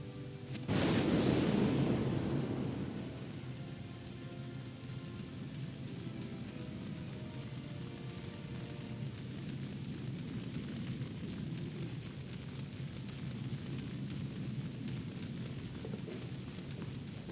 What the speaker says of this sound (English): There's a hole in the roof and it's raining.